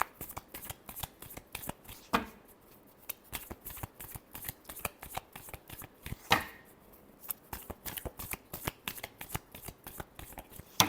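Tarot cards are shuffled by hand in a long run of quick, crisp riffling flicks with a few sharper snaps, close up and with no talking.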